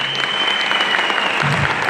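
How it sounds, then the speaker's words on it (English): An audience at a men's conference gives a choir a sustained round of applause, dense clapping close up with a faint steady tone underneath. "Let's give them a round of applause."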